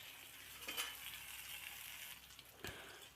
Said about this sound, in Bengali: আলুটা হালকা করে ভেজে নিব।